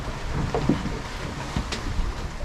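A sailboat runs wing-on-wing along the Colombian coast in rolling seas, with steady wind rush and water noise, a few faint knocks and creaks from the boat, and no voices.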